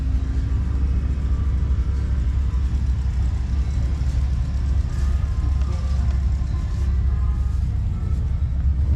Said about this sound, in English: These are small, really small tractors.